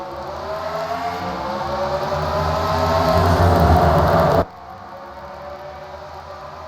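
NASCAR Grand National Series race cars roar away on a restart at Atlanta Motor Speedway, the engines swelling into a loud, rising drone that then cuts off abruptly.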